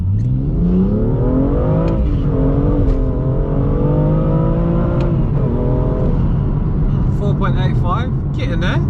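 Modified 450bhp BMW M2 accelerating hard from rest, engine climbing loud and close through several rising gear pulls with brief dips at each shift, under a speaking voice.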